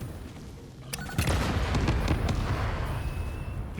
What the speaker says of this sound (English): I love the sound of explosion and screaming hogs in the morning